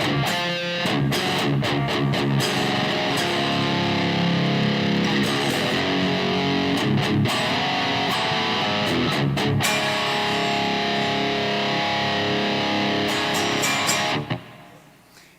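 Heavily distorted electric guitar chords ring out loud and continuous, with a crunchy, gritty tone and a few sharp strummed attacks, fading at the end.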